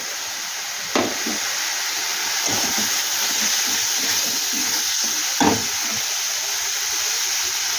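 Spice paste of cumin, coriander, turmeric and Kashmiri chilli powder fries in a pan with a loud, steady sizzle, while a spoon scrapes and stirs it in a few sharp strokes.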